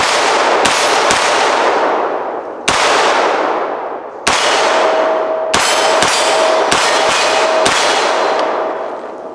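An AR-platform pistol caliber carbine fires at steel targets outdoors, with sharp loud gunshots in irregular singles and quick pairs, each followed by a ringing metallic clang and a long decaying echo.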